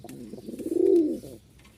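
Pigeons at a pigeon farm give a single rounded coo that swells and fades over about a second, close and clear, with faint rustling around it.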